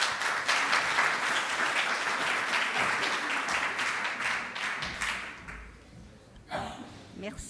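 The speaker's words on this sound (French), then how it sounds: "Je vous demande d'applaudir Véronique Morel." Audience applause for Véronique Maurel, president of UPV, as she is called onto the stage at an opening round-table: loud, dense clapping from a large crowd that fades out toward the end, followed by a brief closing burst.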